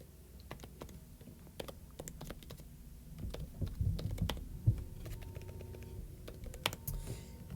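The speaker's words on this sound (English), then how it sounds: "I'm going to type her email address that she gave me" Quiet keystrokes on a computer keyboard as an email address is typed in, a fast irregular patter of clicks close to the mic, with no talking.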